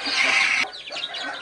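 Hens with week-old chicks in a village poultry yard on a cold day, a loud burst of clucking followed by a scatter of high peeping chirps from the chicks, close by and without talk.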